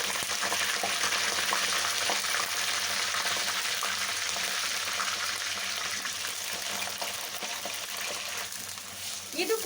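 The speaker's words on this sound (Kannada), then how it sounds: "ಸಾಫ್ಟ್ ಆಗೋವರೆಗೂ ಇದನ್ನು ಕೂಡ ಫ್ರೈ ಮಾಡಿಕೊಂಡ್ರೆ ಸಾಕು." Brinjal fries in oil until soft, a continuous close sizzle with faint stirring scrapes throughout and no talk.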